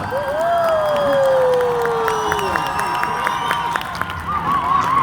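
An audience at a poetry evening welcomes a poet with applause and cheering, a broad crowd roar with scattered claps and a long rising whoop, fairly loud and sustained throughout.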